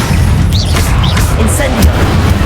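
The Confringo spell blasting in Hogwarts Legacy, a loud deep booming explosion rumbling continuously through the short stretch under bright whooshing magical effects, with a voice speaking over it.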